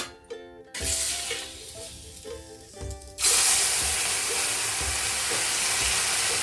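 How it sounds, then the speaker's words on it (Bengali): Mola carplet fish going into hot oil in a wok, starting with quieter clatter, then a loud, steady sizzle and hiss that bursts up and holds close for the rest. "এখন মাছটা আমি দিয়ে দেবো"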